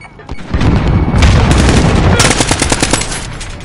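Shooter video game combat: a deep grenade boom followed by sustained bursts of rapid automatic gunfire, loud and close, filling the whole moment without talk.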